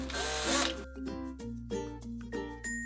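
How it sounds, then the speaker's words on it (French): A drill with a 3 mm bit bores through plexiglass at the edge of a hole, a loud whining burst at first, then shorter start-and-stop bursts of motor hum with no talk. "nous plaçons la mèche sur le bord du trou et nous forons simplement que dans le plexiglas"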